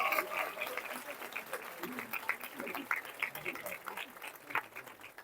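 Applause at a Hindu temple in Leicester rises in an uneven patter of many hands clapping, moderately distant and fairly quiet, mixed with murmuring voices throughout.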